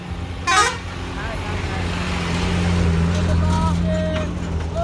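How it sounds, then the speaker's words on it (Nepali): A bus passes on a dusty road with a sustained engine drone, and a short sharp honk sounds early on while a voice talks nearby. "यहाँबाट पनि बस आउँदो रहेछ"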